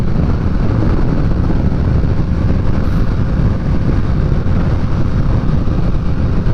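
A loud, steady motorcycle engine roar through a CS Racing exhaust with a deep rumbling note, continuous and close, with a wind-like rush over it.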